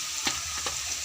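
Garlic paste sizzles and fries in a hot pan, with two soft stirring scrapes cutting through the steady hiss over about a second.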